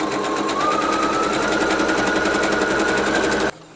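A sewing machine stitches fabric in a fast, steady mechanical rattle, loud and close, running alone for several seconds before stopping abruptly.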